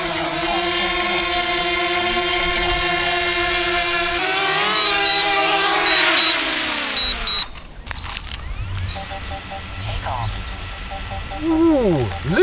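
A DJI Mavic Mini drone spins up and takes off: close, loud whining motor tones climb in pitch, then break into rougher, fluttering propeller noise with shifting whirs as it flies off.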